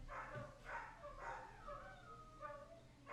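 Neighbours' dogs bark, yip and howl in a series of faint, drawn-out calls, some overlapping, heard from a distance over a low, steady background rumble.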